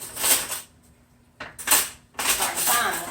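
Someone rummages through a silverware drawer in a home kitchen. Metal cutlery clatters and jingles up close in three short, busy bursts with quiet gaps between them.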